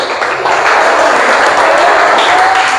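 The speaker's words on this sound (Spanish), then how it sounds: "Dale una ofrenda de palmas al Señor." A church congregation gives a loud round of applause to the Lord at the close of a service, a dense and continuous clapping with no talk over it.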